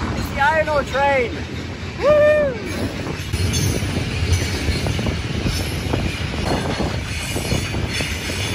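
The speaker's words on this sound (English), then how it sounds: "it's the iron ore train." The iron ore train in Nouadhibou rumbles past with a steady heavy rolling roar and clatter of wagons, while people talk and exclaim over it near the start.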